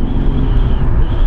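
Mercedes V12 car engine, about 400 hp, pulling hard under acceleration, a dense loud low rumble heard from inside the car with no talk.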